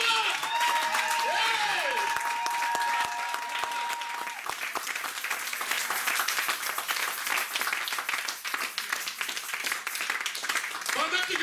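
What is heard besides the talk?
audience applauding and cheering at a church service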